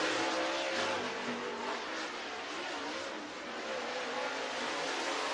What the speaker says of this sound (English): These are your next two drivers as Loudy coming around to take the green flag